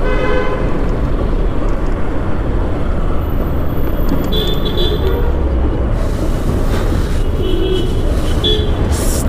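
Heavy road traffic queues near Shankar Nagar metro station in Nagpur, heard from a bike. A steady, loud rumble of idling engines runs throughout, and a few short car horn toots cut through it.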